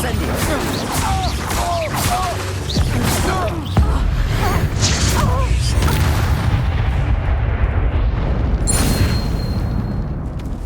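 An Incendio fire spell is cast during a hectic Hogwarts Legacy battle, with booming, crashing blasts and clattering effects piling up over continuous combat noise while voices speak.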